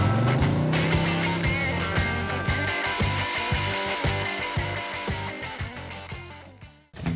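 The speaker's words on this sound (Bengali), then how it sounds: "আমি বাইক চালাচ্ছি।" A cartoon motorbike engine effect starts with a rising rev, then settles into a rhythmic, chugging putter that fades slightly before cutting off abruptly near the end.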